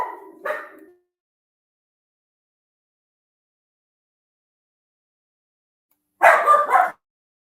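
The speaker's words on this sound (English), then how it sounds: "I can mute the dogs" Dogs barking in two separate bursts: a couple of sharp barks at the start, then a long silence, then a louder cluster of quick barks and yips near the end, with no talking.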